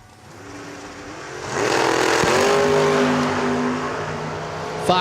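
Drag race run between a Chevrolet Camaro and a Dodge Dakota: engines roar up loudly after a quiet start, holding a sustained harmonic drone with rising pitch before fading, with a sharp click near the end.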